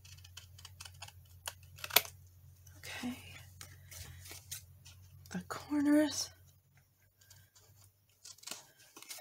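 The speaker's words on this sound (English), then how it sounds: "I'm going to go ahead and trim it." Scissors trimming a paper journal tag, several quiet snips and paper rustles close by, with soft speech heard between the cuts.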